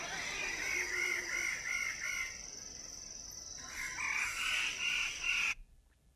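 Loud, continuous chorus of displaying birds in the Malay Archipelago, harsh crowing and clucking calls overlapping for several seconds before cutting off abruptly.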